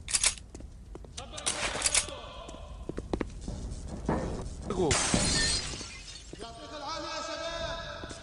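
Window glass shatters in the Counter-Strike: Condition Zero Deleted Scenes mission "Alamo," a sharp crash followed by tinkling debris amid in-game thuds and footsteps, with someone speaking over parts of the scene.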